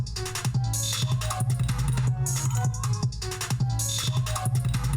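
A poorly made music beat plays: a dense, loud loop of thumping bass, drums and bright layered sounds repeating steadily with no pauses.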